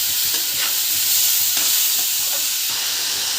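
Boiled banana flower and potatoes being stirred in a hot pan make a loud, continuous frying hiss, with faint scraping strokes of the stirring running beneath it and no voices.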